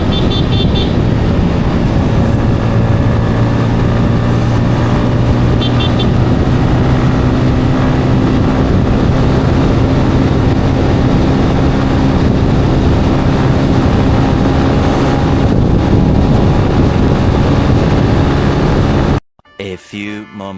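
A motorcycle speeds along an open road, its engine and rushing wind blending into a loud, constant roar with a steady droning tone that stays close throughout before cutting off abruptly at the end.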